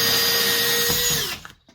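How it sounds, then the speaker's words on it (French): A hole saw whines at a steady high pitch as it cuts through plasterboard for electrical conduit, close and loud, then winds down and stops after about a second and a half. "on a fait des trous à la scie cloche pour passer les gaines"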